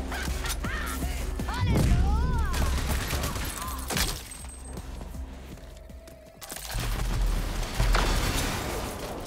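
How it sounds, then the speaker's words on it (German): Gunfire and a distant blast sound in the post-apocalyptic shooter RAGE 2, with scattered shots and crackling debris over a rumbling game background. Someone speaks briefly partway through. "Was ist da explodiert?"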